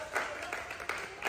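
A small group claps at the unveiling of a new car, a brief, moderately loud patter of hands with people talking nearby.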